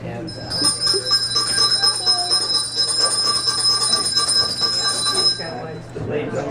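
A dinner bell rings at Miss Mary Bobo's restaurant in Lynchburg, Tennessee, giving a steady, bright ringing for about five seconds before it stops, over a murmur of crowd chatter.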